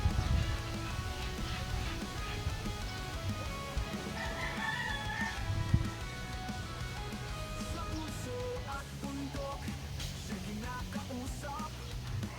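Chickens cluck and murmur nearby in a farmyard, with a rooster crowing at moments; soft, intermittent bird calls over a low background hum, fairly quiet overall.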